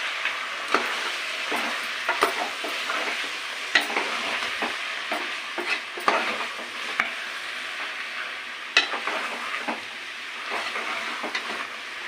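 Spices such as coriander powder and ground cinnamon-clove powder are stirred into a cooking mixture in a pan, a steady sizzling frying sound with scraping spoon strokes, continuous and fairly close with no talking.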